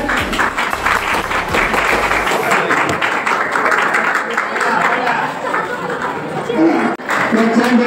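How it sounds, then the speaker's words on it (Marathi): Students at a school science activity clap to cheer on a classmate, a dense run of clapping with chatter and voices over it, and a sharp knock partway through. "बाकीच्यांनी टाळ्या वाजवायच्या।"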